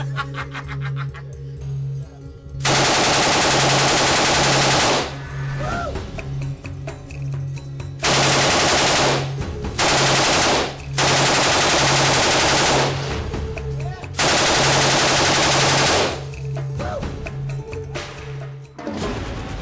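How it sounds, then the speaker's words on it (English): An M249 SAW light machine gun fires several long, loud, close bursts with a stuttering rapid rhythm, separated by short pauses of quieter background. "Infinity War has totally nailed the SAW in the game, right down to the way that it sort of stutters when firing."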